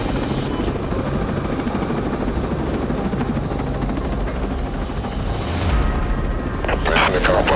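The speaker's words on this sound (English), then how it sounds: "Get on the chopper." Helicopter in the Ghost Recon video game, a steady rotor-and-engine roar filling the whole clip at loud level, with a voice talking over it and a brief burst of crackling noise near the end.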